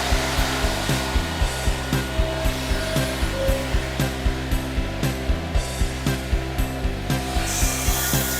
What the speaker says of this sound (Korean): 이 기계가 꼭 곡선을 만드는 기계예요.